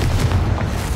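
A Confringo fire spell in Hogwarts Legacy lands as a dense, continuous booming rumble, loud and close throughout its short span, with no clear single onset.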